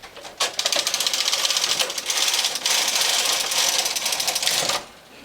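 A Brother knitting machine carriage is pushed across a row, making a continuous loud mechanical clatter for about four seconds between a brief start and a stop.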